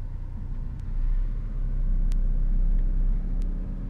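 A Mercedes SLS AMG GT engine gives a steady, deep rumble close by. It swells slightly after the first second and holds there, with a few faint clicks on top.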